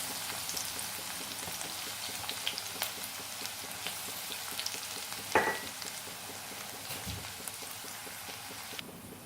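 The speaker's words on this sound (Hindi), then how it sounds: "सबसे पहले मैं डालूंगी इसमें लहसुन और हरी मिर्च का पेस्ट।" Garlic and green chili paste frying in hot oil in a wok, giving a steady, close sizzle with small crackles and one sharper pop partway through, without any voices.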